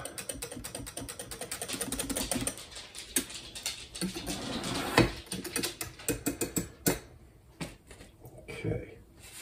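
Soda bread dough is mixed by hand in a bowl, with a quick run of close, irregular clicking and scraping strokes that thin out toward the end.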